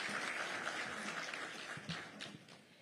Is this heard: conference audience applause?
yes